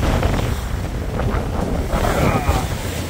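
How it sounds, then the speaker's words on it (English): Big waves surge around a J/120 sailboat racing at sea from Annapolis to Newport, with strong wind roaring across the microphone. The rush of water and wind fills every moment as a loud, steady wash. "Big waves."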